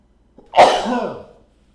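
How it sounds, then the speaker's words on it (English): A single sneeze-like burst from someone nursing a cold, a sharp nasal onset swelling into a broad, breathy expulsion that tails off over about a second, close and alone. "I seem to be sneezing a lot tonight"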